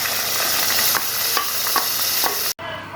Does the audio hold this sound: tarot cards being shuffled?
no